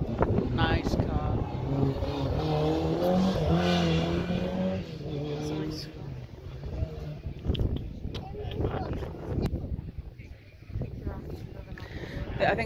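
Car engines roar and rev past in the distance at a motorkhana at Pembrey Circuit, blended with wind, while people talk over much of it.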